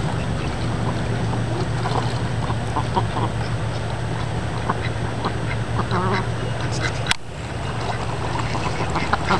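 Ducks quack repeatedly at a park pond, a steady chorus of mid-distance calls over constant low water and ambient noise, with one sharp knock partway through.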